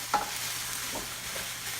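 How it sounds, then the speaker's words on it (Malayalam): Ground beef and onions are stirred in a hot frying pan, with a few scraping strokes of the spoon over a soft continuous sizzle, close up and with no talk. "ഇനി ഇത് നന്നായി ഉള്ളിയുമായിട്ട് ഒന്ന് യോജിപ്പിക്കണം."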